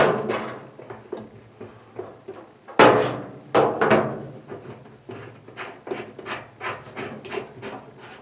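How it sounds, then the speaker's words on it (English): A washing machine hose is being screwed onto its fitting by hand, producing a series of close, scraping rubs and clicks in uneven bursts, with a louder cluster midway and quicker repeated twists toward the end. "You're going to screw them on by hand."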